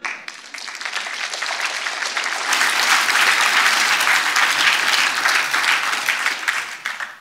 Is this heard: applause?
yes